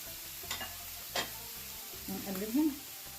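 Duck stuffing being stirred with salt, black pepper, cumin and cinnamon, a soft low scraping and shuffling with a brief sizzle toward the end, faint and close with no talk.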